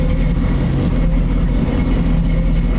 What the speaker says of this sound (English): Revving it up, get a little condensation out of the pipes.